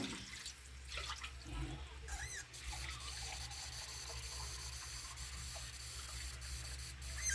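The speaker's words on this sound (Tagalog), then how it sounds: "Tapos dagdagan ko siya ng" Water pours steadily from a tap into a cooking pot, a constant rushing splash with faint clinks and drips, no talking.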